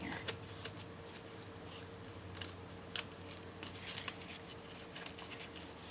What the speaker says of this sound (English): And cut some more off of it right here, so it's not a lot of bulk in here.